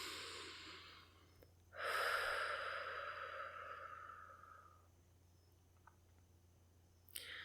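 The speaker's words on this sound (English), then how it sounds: "Let's breathe." A single slow, deep breath during a guided breathing exercise: a soft airy inhale swells and then tapers into a long exhale. It is quiet and close, with light mouth clicks and no talking.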